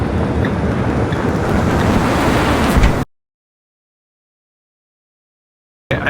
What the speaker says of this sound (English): The wind, the side wind, has blown my sunroof open.